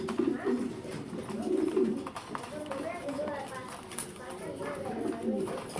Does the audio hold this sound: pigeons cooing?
yes